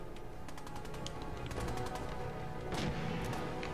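Weapon fire in the post-apocalyptic game Fallout 4: a string of sharp shots, fairly regular at first, with one heavier blast near the end, all over a dense bed of game sound.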